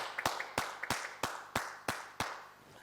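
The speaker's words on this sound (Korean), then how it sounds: "우리 하나님께 영광의 박수 돌리겠습니다" A single person claps seven or eight times in a slow, even rhythm at a Korean church worship service, each clap sharp and close, alone and without talking.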